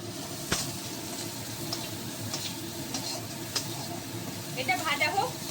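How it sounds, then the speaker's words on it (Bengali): Ginger, green chili, garlic and onion frying in a pan give a soft, steady sizzle with a few small crackles and spatter pops near the end, fairly quiet throughout. "রসুন পেঁয়াজ সব একসঙ্গে দিয়ে নিচ্ছি এবার ভাজবো এইগুলোকে"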